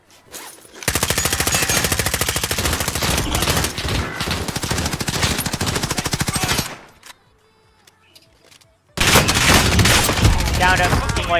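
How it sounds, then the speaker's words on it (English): Rapid automatic gunfire in the Warzone battle royale video game: long sustained bursts of dense shots, a short quiet gap, then another loud burst, with a voice briefly talking. "I'm getting shot from the left."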